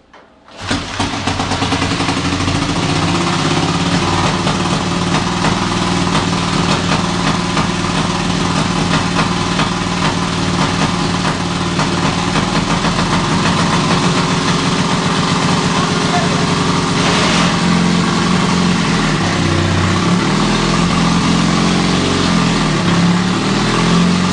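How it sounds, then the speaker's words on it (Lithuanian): Running engine of a 1926 Douglas vintage motorcycle, loud and steady throughout with a continuous throbbing drone that shifts slightly toward the end; someone talks briefly over it. "Aišku, kai motociklas veiks, nieko nesigirdės."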